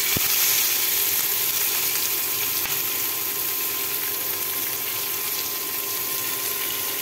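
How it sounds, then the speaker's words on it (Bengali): Cumin seeds and chopped onion frying in a pan, a steady broadband sizzle holding evenly throughout, close and fairly loud, with no talking. "এখন এটা ভালো করে ভেজে নিব।"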